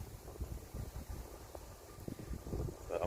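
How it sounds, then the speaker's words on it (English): Steady wind rumbles and buffets against the microphone, a low gusty roar with no voices, at a carp fishing lake at Wraysbury. "Windy as hell going down into this corner."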